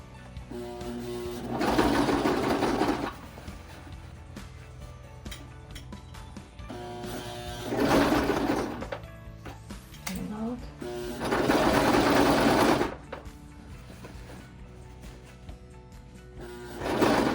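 A sewing machine stitches a hem while shortening jeans, driven by a foot pedal, running in three loud bursts of a few seconds each with quieter pauses between them.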